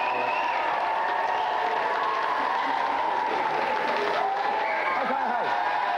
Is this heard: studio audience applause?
yes